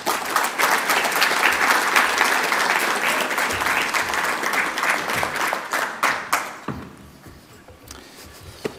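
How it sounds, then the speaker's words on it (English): Loud, dense applause from a large audience at a gaming expo rolls on for several seconds, then breaks off into a few scattered final claps and quiet. "Please give him a round of applause."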